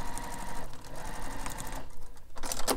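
A sewing machine stitches a seam, needle and presser foot driving in a fast, even mechanical patter, close and loud, with a short lull and a brighter clatter toward the end.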